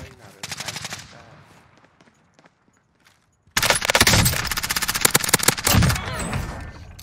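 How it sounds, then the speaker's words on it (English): Automatic gunfire from the Warzone video game crackles in loud, rapid bursts, briefly dropping to near silence before resuming as dense, sustained volleys with players' voices faintly underneath. "Receiving hostile fire."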